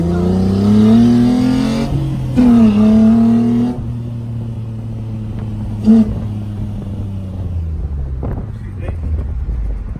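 A sports car engine revs and drones steadily, rising in pitch in bursts, with wind buffeting the microphone and excited French talk over it.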